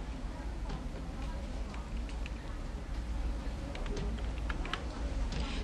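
A computer keyboard clicks in bursts of quick keystrokes during data entry in accounting software, faint and close beneath someone talking steadily.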